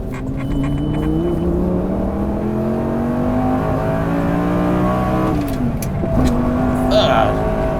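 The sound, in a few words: Lamborghini Gallardo accelerating through gears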